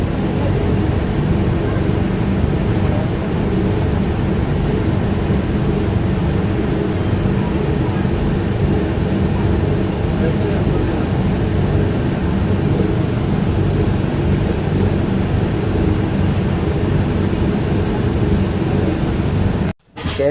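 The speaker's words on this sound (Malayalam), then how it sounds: "6ാമത്തെ പ്ലാറ്റ്ഫോമിൽ നമ്മുടെ വണ്ടി ഒന്ന് കയറുന്നത്" Uday Double Decker Express pulling into platform 6 at Coimbatore Junction, a loud continuous rumble of wheels and carriages with a steady high whine, ending in an abrupt cutoff.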